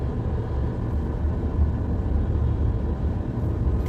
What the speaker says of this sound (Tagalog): Sobrang traffic.